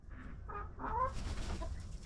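Backyard laying hens cluck in a few short, close bursts early on, followed by a softer, breathy rustle and a faint cluck.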